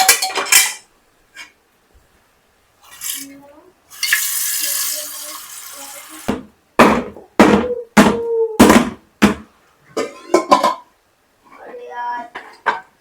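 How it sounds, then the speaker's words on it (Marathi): Loud metallic clanks and knocks ring out close by as a metal stand goes into a large pressure cooker, with a burst of running tap water and some talk in between. "हे स्टँड टाकते खाली"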